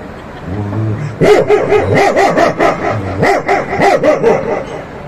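A dog barks repeatedly in loud, close bursts after a few low whining growls, with a steady background hum throughout.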